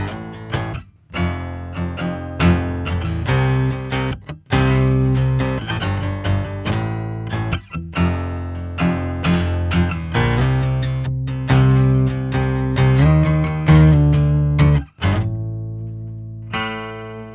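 An acoustic guitar through an effect adding an octave above and an octave below, chords and picked notes ringing with a shimmery twelve-string-like top and a deep bass layer, played alone with short pauses.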